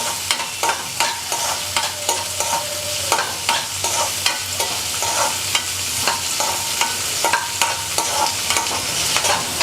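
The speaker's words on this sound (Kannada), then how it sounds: "ಇವಾಗ ಈರುಳ್ಳಿ ಚೆನ್ನಾಗಿ ರೋಸ್ಟ್ ಮಾಡ್ಕೋಬೇಕು." Onions roasting with cinnamon and cloves in a pan for paneer masala: a steady loud sizzle with repeated scraping stirs of a spoon against the pan, no voice.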